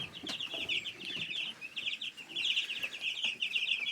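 Young chickens give a faint, continuous chorus of high, rapid peeping chirps, with some soft clucks and scattered rustling underneath.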